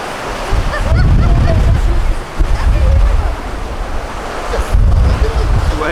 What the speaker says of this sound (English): Another little surge coming up here.